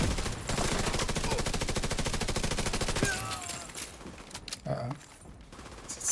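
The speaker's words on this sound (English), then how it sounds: "Sniper rounds coming my way." Rapid automatic gunfire rattles loudly in a video game for about three seconds, then gives way to scattered shots and clatter, with a player talking over it.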